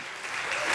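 A church congregation claps during a service, dense applause from many hands that swells slightly over a brief moment with no speech over it.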